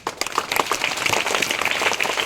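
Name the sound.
audience applause for students at school event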